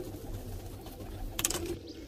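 Pigeons coo softly while pecking at soaked chickpeas, with a brief close burst of calls and fluttery sound under a low background hum.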